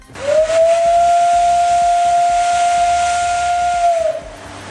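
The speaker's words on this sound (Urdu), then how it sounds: "انجن سیٹی بجاتا ہے" A steam locomotive's whistle blows one long, steady, piercing tone lasting about four seconds, loud and close over a rush of steam hiss, then cuts off.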